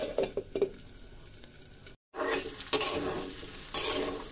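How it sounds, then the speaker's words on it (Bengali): Small potatoes fry in a pan for a Rangpur-style mashed potato dish, giving a soft, steady sizzle with scraping stirs and light clinks of the utensil, a short cut of silence midway, then louder bursts of sizzling. "অন্তত 2 মিনিট মতো ভেজে নেব"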